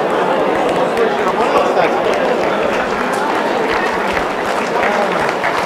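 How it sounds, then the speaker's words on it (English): A workshop audience claps together in a dense, continuous burst of applause mixed with crowd chatter, loud and even across the clip. "You can give yourself a round of applause."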